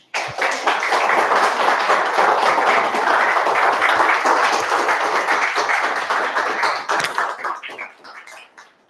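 Meeting audience applauding after a speech, a dense burst of many hands clapping that starts abruptly, holds steady for several seconds, then thins out and fades near the end, with no voices over it.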